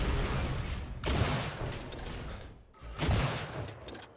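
Sniper rifle fire in the video game Unreal Tournament 4 during a duel match, with two loud, sharp shots about two seconds apart, each trailing off in a long noisy decay.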